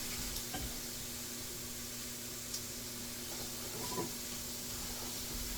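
Onions sautéing in a pan, a steady close sizzle and hiss with occasional faint stirring clicks, continuous and fairly quiet with a low hum beneath, no talking.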